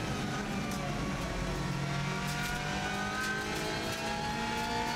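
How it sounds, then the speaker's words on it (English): A race car with a fast-shifting six-speed gearbox builds power uphill on a TT road course, its engine a loud, continuous drone with tones climbing steadily, heard from onboard. "now we start building power all the way up the hill again"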